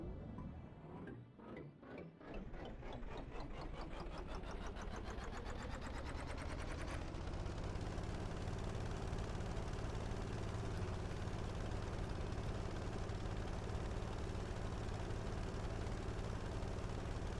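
In the Stormworks game, an engine drives an impeller pump, starting as a rapid, rhythmic mechanical pulsing that blurs into a loud, steady, continuous drone, with no voices.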